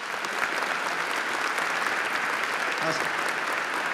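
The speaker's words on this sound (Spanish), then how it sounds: "quisiera que tributemos con un fuerte aplauso a su esposa y a sus hijos" An audience at a 2014 tribute ceremony honoring Valentín Paniagua gives steady, loud applause for his widow and children, filling the room continuously while a voice briefly says thanks over it.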